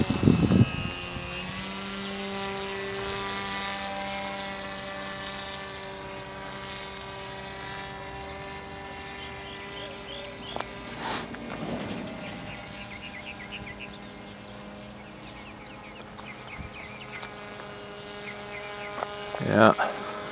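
Peace Drone model aircraft flying steadily at mid-throttle in level flight, a sustained buzzing propeller drone with harmonic whine, fairly constant with slight pitch shifts, with a few brief handling bumps and faint talk.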